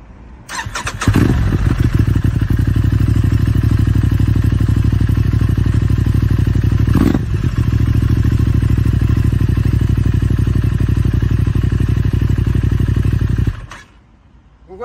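Aprilia RS 660 sport motorcycle fitted with an optional exhaust line, idling and revving up close: a loud, steady rumbling engine note with one sharper rev burst partway through, cutting off near the end.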